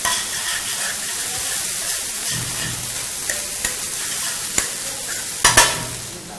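Idiyappam being stir-fried in a pan, a steady sizzle with scattered clinks and scrapes of a utensil against the pan, growing sharper near the end.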